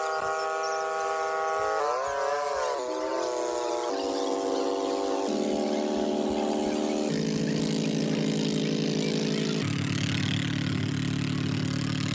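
Vehicle engine running steadily, loud and close throughout, with its pitch stepping down in several distinct stages as if shifting gears, and no talk over it.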